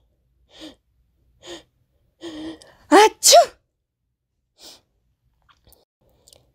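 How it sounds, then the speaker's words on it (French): Two forceful sneezes in a row, near and loud, with soft breaths and a brief quiet word around them. "J'éternue."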